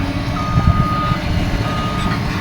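A truck's reversing alarm beeps steadily during backhoe loading at a work site, a thin repeating tone sitting over a loud, rumbling diesel engine nearby.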